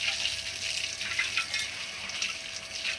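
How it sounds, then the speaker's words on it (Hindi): Water poured into a household drain, a steady hissing splash of running liquid that holds at a constant level, close by and with no voices. "इधर नाली में पानी डाल दूँ।"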